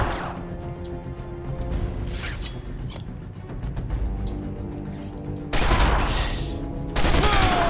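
Gunfire in Batman: Arkham Asylum comes as bursts of rapid shots and crashing impacts over a dense game soundscape, with loud sharp volleys toward the end and no voices heard.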